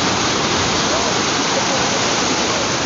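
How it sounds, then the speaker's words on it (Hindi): Fast, dangerous Kunhar River water rushing past in a loud, steady roar of white noise, close and continuous with no pauses. "यहाँ इतना तेज पानी चल रहा है"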